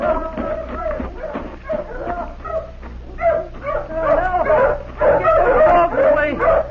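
Several dogs bark, yip and whine excitedly in an overlapping chorus, fairly close and continuous, with voices mixed in.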